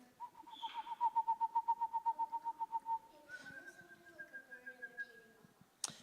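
Screech owl calls: a rapid series of about fifteen even whistled notes on one pitch, then a lower, softer trill with a few scattered notes, heard fairly close in quiet night air.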